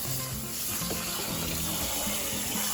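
Cold tap water runs steadily into a sink to rinse rice, a continuous close splashing wash with no talk over it.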